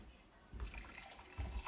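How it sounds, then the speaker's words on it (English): Pasta cooking water poured from a pot while making tomato sauce, a soft liquid trickle and splash with two brief louder gushes, close and alone. "I'm going to pour some of my pasta water to save"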